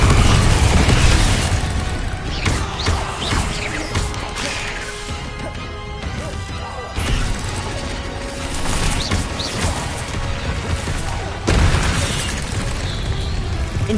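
Booming blasts from the Confringo blasting spell in Hogwarts Legacy, a loud impact at the start followed by rumbling debris and further crashing bursts across the fight, with no talk.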